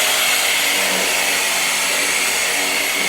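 A power scrubber running at 3,600 strokes per minute on a maggot-infested minivan seat, a loud, steady, close buzzing whir with brushy scrubbing noise throughout, no talking.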